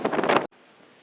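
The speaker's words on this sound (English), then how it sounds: "It's super windy on the Riverwalk" A short, loud burst of wind buffeting the microphone on the San Antonio Riverwalk that cuts off abruptly into near silence.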